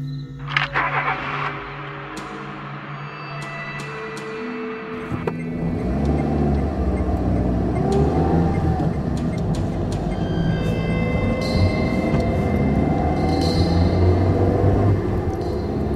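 Car driving in a radio drama sound effect: after a few brief clicks and tones, a steady low engine and road rumble sets in and continues evenly to the end, with no one speaking.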